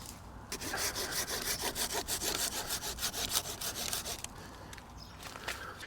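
Hand sawing of a wood log with the saw blade of an Adventure Mate V3 camping multitool, rapid rhythmic back-and-forth rasping strokes heard up close, steady, then slowing near the end, no talk.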